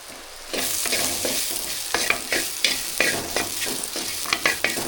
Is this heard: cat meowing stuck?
no